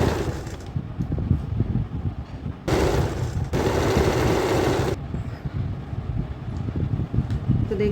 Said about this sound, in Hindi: कोई भी कपड़े को हमें खींचना नहीं है और बराबर से सिलाई डाल देंगे।